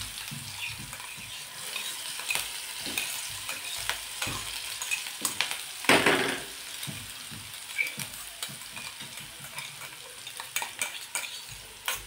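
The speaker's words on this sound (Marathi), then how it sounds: "तेल गरम झालेलं आहे बघा, त्यामध्येच हे जे वाटलेला मिरचीचा ठेचा आहे तो टाकायचा" Crushed green chili paste sizzles in hot oil in a pan with stirring, making a steady crackling fry with a louder burst as it is stirred. No one speaks.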